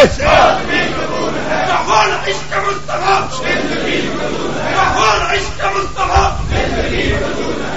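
A large crowd at a religious gathering shouts a slogan together in loud, ragged bursts. The voices swell and overlap continuously for several seconds.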